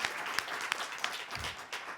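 Audience applause for both competitors at a high school debate championship, moderately loud continuous clapping from a small crowd, heard without talk.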